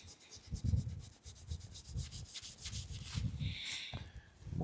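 Abrasive pad scrubbed back and forth over a rusty knife blade, close rhythmic rasping strokes repeating about once every half second, with no talk.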